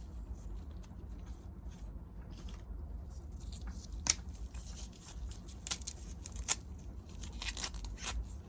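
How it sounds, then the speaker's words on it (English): Lime leaves are torn roughly by hand, giving a few crisp, sharp ripping snaps over a low, quiet kitchen background. "Give the lime leaves a rough tear to release the aroma of the lime."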